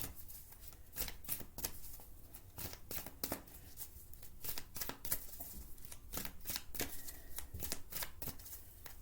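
Rapid, crisp riffle-shuffling of playing cards, with bursts of snapping card edges repeating throughout, close and fairly quiet with no talk.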